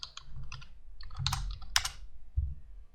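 Keystrokes on a computer keyboard while typing into a search field in Unreal Engine 5, a few quick clustered bursts of clicks with short pauses, close and fairly quiet, no talking.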